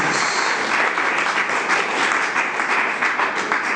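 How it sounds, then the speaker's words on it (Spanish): A church congregation claps steadily for several seconds during a Pentecostal service in Madrid, a dense, even wash of applause filling the space without pause. "Un aplauso al Señor en esta mañana"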